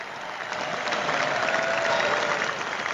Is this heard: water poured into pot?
no